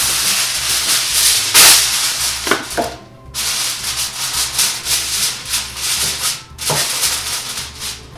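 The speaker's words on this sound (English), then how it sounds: "Then cover with foil." Aluminum foil pulled and crimped over a 9x13 baking dish of sourdough bread pudding, a close, loud crinkling and rubbing with sharp rustling bursts and a steady low hum underneath.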